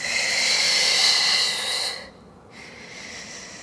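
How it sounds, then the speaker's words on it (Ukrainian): Deep, drawn-out breaths during a morning stretching exercise: a long, loud airy exhale for about two seconds, a brief pause, then a softer inhale, close to the mic with no talking. "Протяжний видих. Вдих. І ще один раз."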